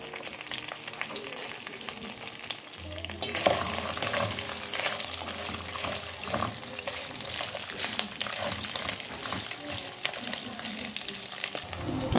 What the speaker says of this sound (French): j'ai mélangé un peu dans l'huile pour faire revenir la viande